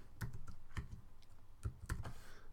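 Fingers type on a computer keyboard, a quiet cluster of quick plastic key clicks in uneven bursts, close and alone without any voice.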